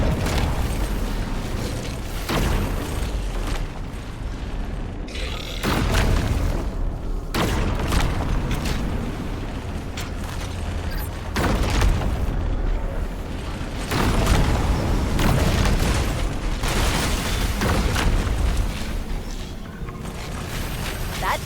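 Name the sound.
pulse generator overloading and exploding in Halo video game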